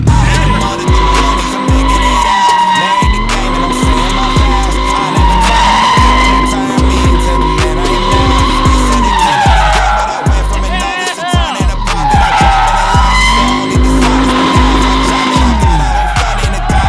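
An LS-swapped Mazda Miata drifts with loud, sustained tire squeal and skidding over a roaring V8 engine that rises and falls in repeated cycles, close and continuous throughout.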